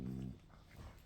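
A dog gives a short whimpering whine up close, a brief tonal cry at the start that fades into soft breathy noise, with no speech.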